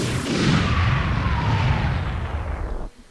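A bomb blast in a space shooter video game: one loud, sustained explosion with a rumbling low roar and a crackling wash that holds for nearly three seconds before cutting off abruptly, heard alone.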